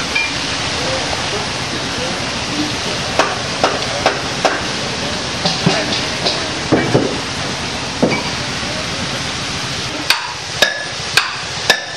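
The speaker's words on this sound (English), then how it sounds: "The ore gets put inside to the trommel together with steel bars like this, which grind over hours and destroy the rock" A mercury-ore trommel loaded with steel bars grinds the rock in a steady, loud roar, with sharp metallic clanks and knocks breaking through, spaced more closely near the end.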